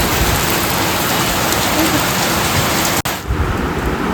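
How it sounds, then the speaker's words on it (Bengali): Heavy rain pours down in a loud, dense, unbroken roar. It drops briefly for a moment before rushing on. "দেখো কী হারে বৃষ্টি"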